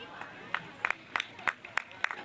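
Scattered hand claps from an audience at a high school inter-schools sports day, sparse individual claps spaced irregularly, faint and fairly distant over quiet murmuring.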